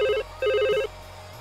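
A telephone in a hair salon rings with two clear electronic trilling bursts, each about half a second long, with a short gap between them and no voices over them.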